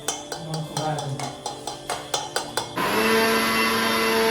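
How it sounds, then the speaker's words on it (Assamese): A mixer grinder grinds herbs with a little water: short pulsed bursts first, then a continuous loud whirring run, close by. "গলিব নহয় আৰু পিচিবলৈ আহিছোঁ মিক্সিত"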